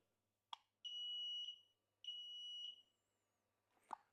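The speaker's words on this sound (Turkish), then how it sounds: "Şu an size siren sesini dinleteceğim." A wireless smoke detector's siren test sounds two long, piercing high-pitched beeps, framed by a sharp click before and after, loud against near silence.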